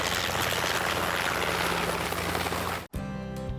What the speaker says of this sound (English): I'm on a helicopter.